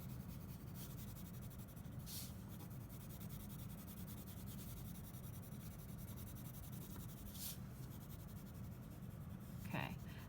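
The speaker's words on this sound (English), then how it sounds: "laying down a good layer of pencil" Colored pencil shading on paper makes a steady, soft scratchy rubbing that continues unbroken, with a few brief, sharper strokes standing out.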